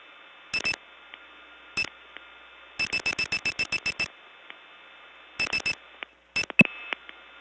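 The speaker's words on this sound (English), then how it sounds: "it went off hook, and I rang forward, and it hung up, and we're now sitting on the 103 test line" Telephone line on a 1979 Gainesville, Georgia step-by-step tandem switch going off hook and ringing forward on a test line: clusters of sharp, rapid tone bursts and clicks over a faint steady hum, with gaps between groups.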